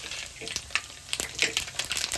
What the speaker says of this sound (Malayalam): ഉലുവ പൊട്ടി നമുക്ക് കടുക് കൊടുക്കാം